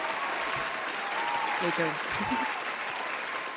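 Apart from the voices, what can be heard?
audience applause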